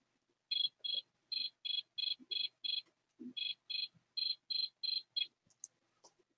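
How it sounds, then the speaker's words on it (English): Cricket chirping recording: a steady train of short, high, evenly spaced chirps, about a dozen in two runs with a brief pause between, clear and isolated against near silence. "Let's listen to that cricket sound one more time."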